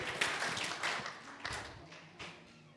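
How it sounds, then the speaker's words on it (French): A church congregation claps for the Lord in a quick, uneven burst of hand claps that fades toward the end, moderately close with no talking. "Clap for the Lord"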